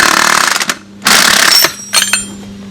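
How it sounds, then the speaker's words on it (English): An impact tool hammers at the clutch nut of a Yamaha Grizzly 450 ATV through a 1 13/16 socket. It makes loud, close bursts of rapid rattling, broken by short pauses and a final squealing whir. "use an 1 13/16 1 13/16 socket, and we break it loose"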